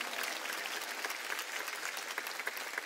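Steady applause from a church congregation at a Wednesday worship service, dense clapping filling the room for a few seconds without any talk.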